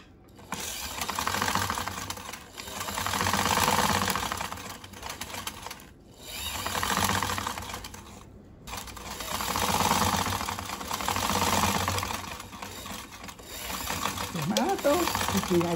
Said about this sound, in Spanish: Y pasamos a la máquina a coser la cremallera.